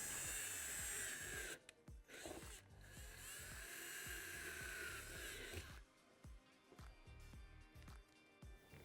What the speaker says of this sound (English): we're going to use a 1/4-inch drill bit to drill both of those holes